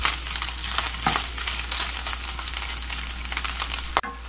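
Garlic frying in a pan for a dish of sautéed pechay with pork, a dense, steady sizzle and crackle close by, with a sharp clatter of utensil near the end and no voices.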